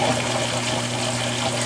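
Strong, steady rush of water pouring out of an outlet into a tank, a continuous loud gushing flow with a low pump-like hum underneath and no talk.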